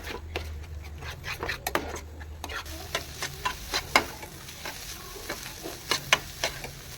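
Onions and tomatoes frying with chili powder and turmeric for an egg curry, a low sizzle under repeated clicking and scraping of a spatula against the pan, close and fairly quiet.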